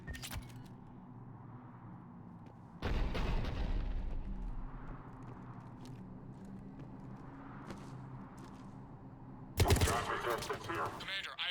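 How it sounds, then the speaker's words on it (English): Cannon fire in the video game Mass Effect 3 booms in two heavy bursts, one around the three-second mark and a sharper one near the end, over a low droning game ambience. "The cannon fire is clearing the way."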